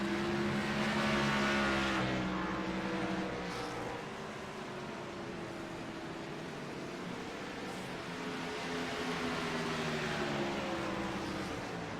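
Race cars lapping a track, including slower lap traffic, captured as a continuous layered engine drone with shifting pitches as several cars rev and pass, steady and moderately loud with no talk.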